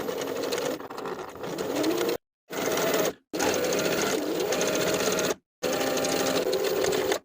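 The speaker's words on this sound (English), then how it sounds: "Now I'll edge stitch along that inner folded edge of the bias tape all the way around to complete the neckline hem." A sewing machine edge stitches bias tape around the neckline of a linen dress, running in four steady bursts of near, loud motor whir separated by short silent pauses.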